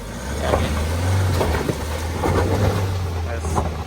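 A Mahindra Thar in 4x4 crawls over rocks, its low engine rumble steady and close under continuous talking.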